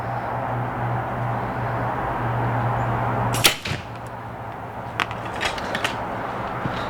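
Victory 3D HV arrows striking a target, one sharp close impact crack partway through followed by a few lighter ticks and rattles over a steady background hum.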